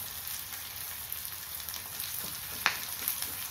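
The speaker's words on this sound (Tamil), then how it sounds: "வெங்காயம் வதங்க உப்பு சேர்த்துக்கிறேன்." Onions sautéing with rock salt in a pan for coconut dal curry, a soft, steady sizzle with light stirring and one sharp tap partway through, fairly quiet and with no one speaking.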